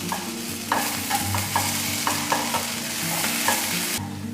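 Green chillies are stirred with onion and garlic in a pan off the heat, with regular scraping strokes of a spoon over a soft frying crackle, close and continuous with no talk.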